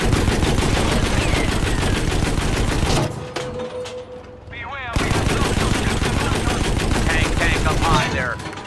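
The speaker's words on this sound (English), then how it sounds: "Yeah, I'm trying to fire at him." Tank cannon and machine-gun fire in the video game Battlefield V, with a Staghound and Panzer 38t in play: dense, loud bursts of rapid gunfire, a brief near-silent gap, then heavy firing resuming up close.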